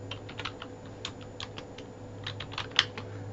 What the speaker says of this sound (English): I just want to type in CIS